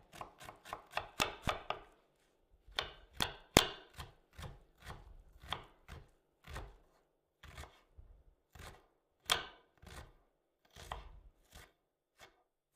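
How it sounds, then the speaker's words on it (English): Knife finely chopping onions on a board, a fast run of crisp close cuts at first, then slower, irregular single chops with short pauses, no talk. "Let's chop the onions finely as well."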